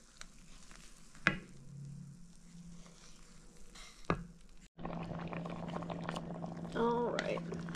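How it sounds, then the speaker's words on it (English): Homemade apple barbecue sauce simmers in a pot with a low bubbling sizzle, joined by a few sharp clinks and stirring sounds, and a voice speaks briefly near the end. "let it continue to cook down for probably an hour or so until everything is thoroughly softened"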